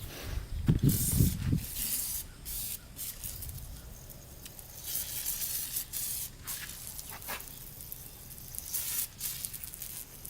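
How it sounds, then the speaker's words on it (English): Short aerosol bursts of WD-40 hiss near the mic, a loud spray early on and then lighter intermittent spurts over low background noise, used while working on a Honda 400EX quad. "we'll use a little WD-40"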